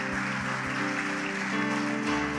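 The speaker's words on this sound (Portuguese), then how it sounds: "Pode aplaudir a Jesus." A church congregation applauds during a sermon, a steady wash of many hands clapping at moderate distance with a sustained tone lingering underneath.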